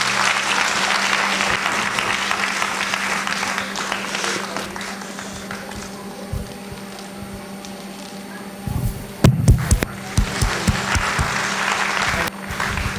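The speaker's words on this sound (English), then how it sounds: "a big round of applause for Anup Shastri with us tonight" Audience applause at a school annual function, a dense sustained clapping from a crowd that tapers off before a brief burst of louder claps and thumps near the end.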